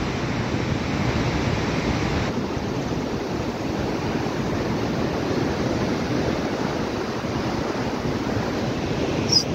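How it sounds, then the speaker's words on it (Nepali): River water rushing below a bridge set between two dark cliffs at Pelma, Rukum East, a steady broadband roar that continues without a break throughout. "यहाँबाट अझै खोला बगिरहेको छ तल"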